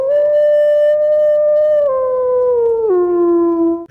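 A single wolf howls loudly and close, one long sustained tone that holds steady, then drops in pitch in two steps before cutting off.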